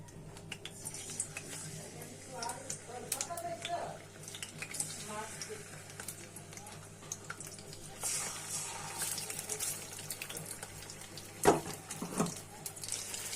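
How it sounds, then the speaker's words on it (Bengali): Small fish frying in hot oil, a soft hiss of sizzling with stirring clatter, fairly faint and close, with some speech in the background. "এখন তেলটা গরম হয়েছে, তেলের মধ্যে মাছগুলো দিয়ে দিচ্ছি।"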